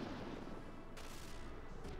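Shotgun blasts from the video game Front Mission 3 come through as dense, rumbling booms that run continuously under a low, steady level, with a sharper burst about halfway.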